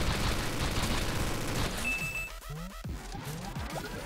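Minigun fire during a boss fight in the video game Super Mutant Alien Assault: a loud, continuous rattling burst of rapid shots mixed with other game effects, with no pauses across the clip.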